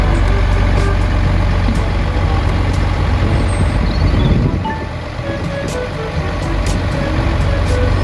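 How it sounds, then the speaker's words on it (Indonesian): Toy tow truck, heard as a loud, steady rumbling engine-like drone with a brief dip partway through and faint high clicks above it. "ini mobil derek"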